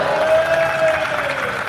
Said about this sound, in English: A big round of applause for Billy as well.